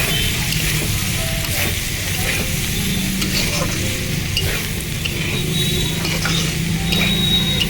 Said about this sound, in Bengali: তিরিশ সেকেন্ডের মতো নাড়াচাড়া করে নিয়ে